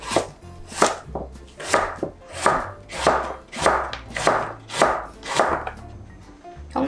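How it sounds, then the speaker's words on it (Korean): A knife chops radish on a cutting board in a steady run of about a dozen crisp, close knocks, evenly spaced, with no voices. "나박김치 모양으로 썰어주시면 되는데요 좀 두껍게 하실 분들은 두껍게 하셔도 되고요 적당한 두께로 이렇게 썰으셔도 좋습니다"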